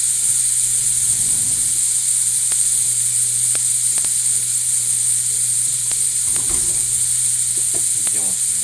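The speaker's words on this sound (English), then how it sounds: "So I do have the griddle turned down to low because of how fast the shrimp are cooked." Shrimp sizzle on a griddle turned down to low, a steady bright hiss that runs the whole time, with a low hum underneath and a few faint clicks and scrapes late on.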